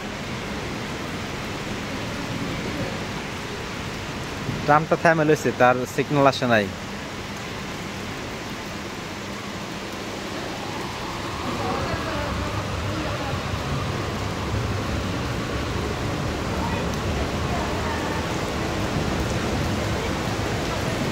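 Steady rain falls on a Turin city street, a continuous broadband hiss that thickens in the second half, with a person speaking briefly near the start.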